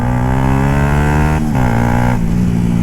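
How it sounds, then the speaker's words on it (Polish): Motorcycle with a loud aftermarket exhaust revving on a street, a close, loud engine note that rises and dips in pitch through a couple of quick throttle changes. "Jakoś z tym wydechem nie umiem kurde tak cicho jeździć."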